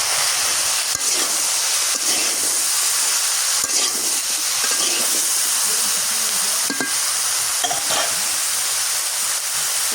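Shutki, Bangladeshi dried fish, frying and sizzling in a pan in a village kitchen, a steady hissing crackle that runs the whole time with occasional stirring scrapes and clinks, fairly close and with no voices.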